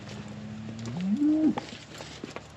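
A cow gives a single drawn-out moo that rises in pitch at the end, fairly close, amid low outdoor background noise on a farm where cows and calves are kept apart.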